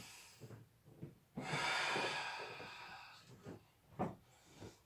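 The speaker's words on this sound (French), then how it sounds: "Je respire." Breathing during an elastic resistance band stretch for the chest and arms, with a long, loud exhale through the nose or mouth and several shorter, quieter breaths and sniffs close to the mic.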